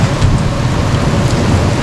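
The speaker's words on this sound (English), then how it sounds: "That's a big piece of hail." Rain pours heavily during a hailstorm on a small homestead, a loud dense roar of drops and stones pelting close by with a low rumble beneath, continuous and without speech.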